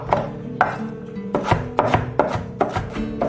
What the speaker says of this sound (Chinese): 我们全部给它切末